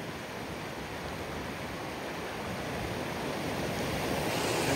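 Steady rushing roar of a waterfall beside a fishing spot, broad and hissing with some wind, swelling gradually louder as the listener draws nearer.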